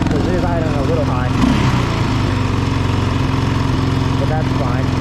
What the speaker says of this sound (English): I might need to turn the idle down a little bit. Because it is idling a little high.